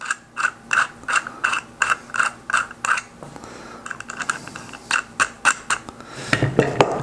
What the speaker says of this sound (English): And you tighten them really tight.